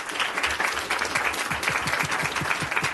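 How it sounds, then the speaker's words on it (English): Audience applause at a school district staff announcement in Fort Worth, a steady wash of many hands clapping filling the room at moderate level, without any voices. "Give her a round of applause."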